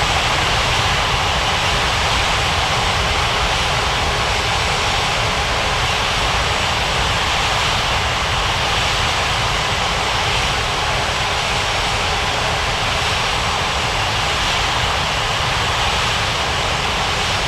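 An aircraft engine drones steadily in an air traffic control game as a plane taxis, a constant loud broadband roar with no breaks.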